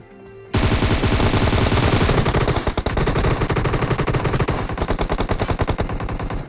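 Groza and AUG assault rifles fire in a PUBG Mobile match. The automatic fire is loud and continuous, with rapid overlapping bursts running for several seconds and barely a break.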